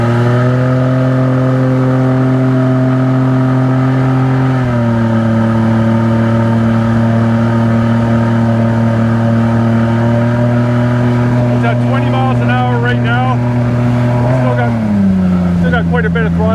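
The engine of a Solar 470 Super Jet boat drones loud and close, its pitch dipping and rising as the throttle shifts through turns, with some voice and splashy noise over it near the end.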